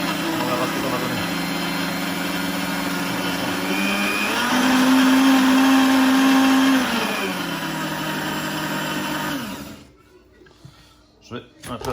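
A juice extractor grinds sweet potato in a loud, steady whirring drone that strains and rises in pitch midway, then stops abruptly, leaving a few faint knocks and handling sounds.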